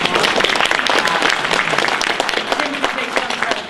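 A school audience at a State of the Schools event breaks into loud, steady applause, dense clapping filling the room without letup from start to finish.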